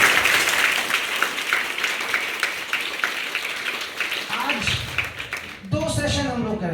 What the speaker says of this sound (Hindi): झारखंड की बेटियों के लिए एक बार आप जोरदार ताली